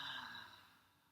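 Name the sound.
exhaling breath through the mouth with a ha sound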